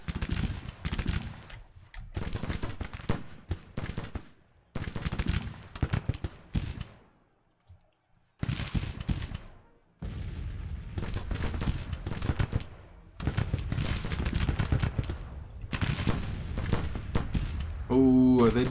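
Rapid crackling volleys of musket and cannon fire from a Civil War battle in the strategy game Grand Tactician, coming in dense bursts with short lulls between them, with a voice talking over much of it.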